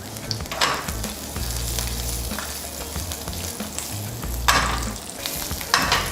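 Ginger, four garlic cloves and green chillies fry in hot oil for a chutney, giving a steady close sizzle with stirring scrapes and brief louder bursts of crackle, with no voices.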